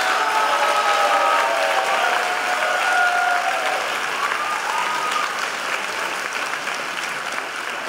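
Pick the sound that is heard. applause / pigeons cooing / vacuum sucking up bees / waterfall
applause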